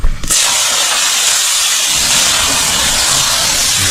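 Gangawan shrimp frying in hot oil with onion, garlic and ginger: a loud, steady sizzle starts abruptly after a brief moment and continues without pause, close up, with no talking.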